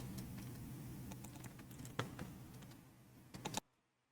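Rapid typing on a computer keyboard, a steady patter of close, crisp key clicks with a few louder strikes near the end before it cuts off abruptly.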